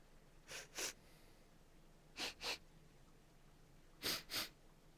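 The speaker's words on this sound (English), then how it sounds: "What are you two sniffing at?" Characters in Tales of Berseria sniff in three quick paired bursts, each double sniff close and distinct over a quiet background.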